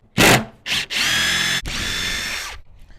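A power drill driving screws while installing an RV outdoor speaker in several bursts: two short whirs, then longer sustained runs of the motor, close by, ending abruptly.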